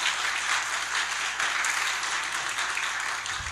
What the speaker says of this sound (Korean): 수고하신 교수님께 예, 감사의 박수 한번 하겠습니다.